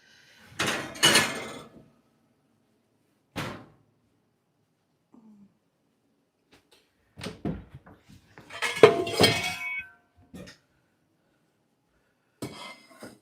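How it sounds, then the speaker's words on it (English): A pan is handled and slid into a home kitchen oven, with scattered metallic clanks, a door-like thud and rattles separated by quiet gaps. "I'm going to take that and just stick that in the oven while I make the batter."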